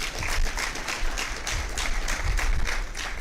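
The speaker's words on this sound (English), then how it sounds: "A big clap" Audience applause at a leaders' summit, a steady wash of many hands clapping at moderate distance, fairly even and sustained throughout.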